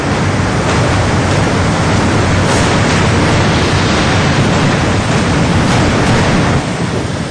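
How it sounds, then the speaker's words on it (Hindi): Floodwater tears down from the mountains in an August flood, a continuous loud roaring rush of churning water that stays at full force throughout with no voices. "पहाड़ से हाहाकार मचाता पानी नीचे आया"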